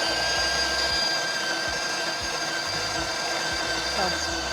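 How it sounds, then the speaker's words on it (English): An espresso machine's built-in grinder grinds coffee beans with a steady, close mechanical whir that stays constant throughout, with faint low thumps underneath. "All right, so I'm gonna grind my espresso."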